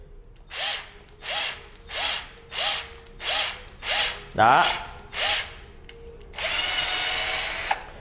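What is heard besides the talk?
Worx power drill driving in, battery running low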